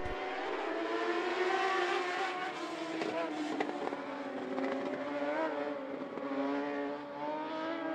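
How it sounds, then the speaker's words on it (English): Modified Mod Lite race cars howl around I-75 Raceway at a steady, distant pitch as the field takes the green flag, their engines layered into one continuous roar. "Alan Van Wy, Randy Fly, leading the field out of turn four to green flag racing"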